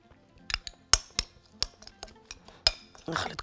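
Utensils mix olives, garlic and dried coriander in a bowl, making a series of sharp, close clinks and scrapes at an irregular pace, with a rougher stirring rustle at the end.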